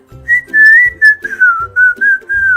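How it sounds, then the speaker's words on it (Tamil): A person whistles through the nose in a series of loud, close, clear tones, short phrases rising and falling with brief gaps between them. "அவனுக்கு மூக்குலயே விசில் அடிப்பேன்"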